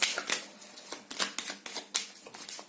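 Tarot cards drawn and handled in a reading, giving quick, close, papery snaps and slides in a rapid irregular run of about a dozen crisp flicks.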